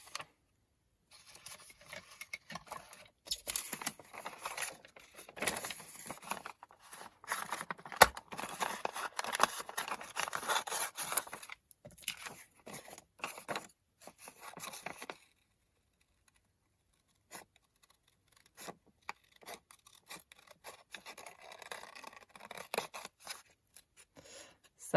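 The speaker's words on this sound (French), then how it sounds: "je viens le détourer avec mes ciseaux." Scissors snip around a stamped paper label in bursts of quick, close, crisp cuts, separated by short silent pauses.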